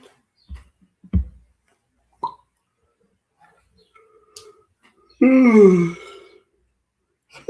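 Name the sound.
yawn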